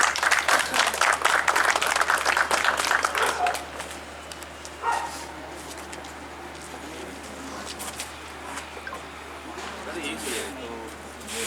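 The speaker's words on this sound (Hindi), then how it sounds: "उनके लिए भी तालियां हों" Audience applause at a racing pigeon club prize distribution ceremony in Karachi, a few seconds of steady clapping that ends abruptly, followed by quieter ambience with a voice and faint sounds.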